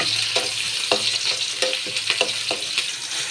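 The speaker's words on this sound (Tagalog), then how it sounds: "At nilagay ko na yung meat para maluto siya" Ground meat fries and sizzles steadily in a pan for a Filipino giniling lunch dish, with a continuous hiss broken by repeated scraping strokes of stirring, close and moderately loud with no talking.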